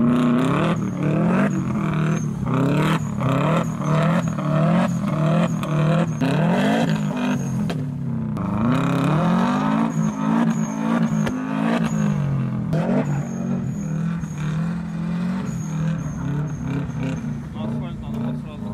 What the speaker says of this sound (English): Russian guy in a Subaru manages to tow this van out of the snow.